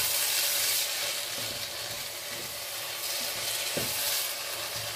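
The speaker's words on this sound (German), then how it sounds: "Ganz kurz aufkochen lassen." A pan of vegan vegetable rice sizzles and briefly comes to the boil, giving a steady, close hiss of frying with a few soft stirring knocks.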